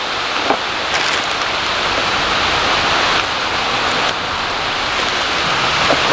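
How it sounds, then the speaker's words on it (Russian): Heavy rain pours down as a dense, steady hiss that stays constant and loud throughout, with no voices over it. "дождь у нас не прекращается. Продолжает идти, будет шумновато маленько."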